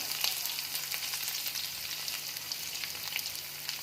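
Green chili, curry leaves and onion frying in a pan, giving a dense, steady sizzle with faint crackles throughout, close and continuous with no talking.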